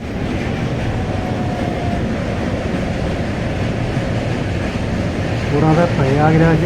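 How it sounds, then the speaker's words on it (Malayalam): A train rolls across an old British-era bridge at Varanasi, a continuous heavy rumble and clatter close by, with a voice briefly speaking near the end. "ആ ട്രെയിൻ പോകുന്നത് നമുക്ക് കാണാം."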